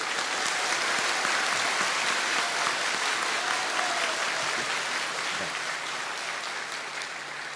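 A large audience at a religious gathering bursts into loud, sustained applause that slowly tapers off over several seconds, dense and steady with faint voices mixed in.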